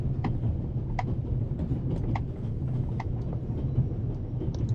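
A video game train runs steadily with a constant low rumble and faint rhythmic clicking from the rails, close and continuous with no voices.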